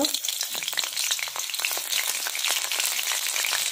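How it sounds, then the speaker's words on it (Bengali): Green chilies frying in hot white oil in a pan, a dense continuous sizzle with crackling pops, close and fairly loud, with no voices. "তেল গরম হয়ে গেছে, ওর মধ্যে কাঁচা লঙ্কা দেব"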